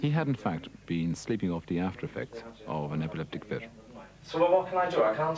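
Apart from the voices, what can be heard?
No everyday noises stand out.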